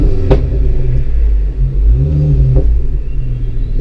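Ford Focus ST3 engine revving on a night drive, a steady loud in-cabin rumble swelling through two rev rises with brief sharp transients.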